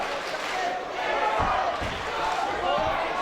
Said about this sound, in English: You can see the crowd now getting agitated, shouting for Dan Gibbon.